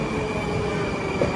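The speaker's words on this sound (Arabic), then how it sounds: "هذا المترو مالتنا، هذا المترو مو مالتنا." A metro train runs past an outdoor station, a steady loud rumble of wheels on rails with a brief squeal, heard alone without talk.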